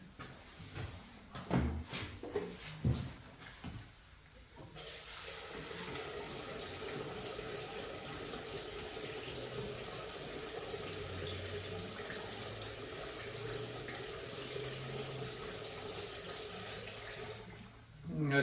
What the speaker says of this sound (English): First we gotta get some gas in it.